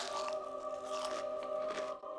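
Crunchy dill pickle slices, used in place of crackers, bitten after being dipped in a dip, give a few sharp crunches over a steady tonal music bed.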